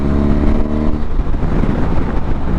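A BMW S1000XR motorcycle pulls hard in sixth gear at around 68, its engine droning steadily and loud up close with a smooth, unbroken rising roar and no talking.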